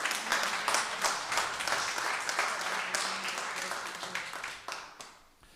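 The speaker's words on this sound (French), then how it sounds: "Oui, vous pouvez applaudir" A congregation claps in church, with many hands sounding at once in a lively, fairly close burst that gradually thins and fades toward the end.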